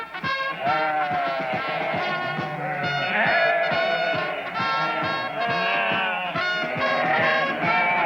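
Many sheep bleat in overlapping, steady calls, a dense flock sound that carries on without pause, loud and close.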